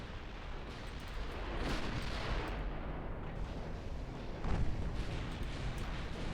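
Naval gunfire in the warship strategy game Ultimate Admiral Dreadnoughts, a steady rumbling barrage of broadside cannon fire with heavier booming swells partway through and near the end, continuous with no voices.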